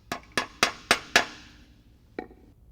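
Five quick, evenly spaced metallic hammer taps drive a screw extractor into a broken bolt on a small block Ford engine, followed by one softer tap after a short pause; close and crisp, no talking.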